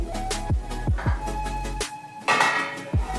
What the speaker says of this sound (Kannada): ಒಂದು ಪಾತ್ರೆ ಇಟ್ಕೊತಾ ಇದ್ದೀನಿ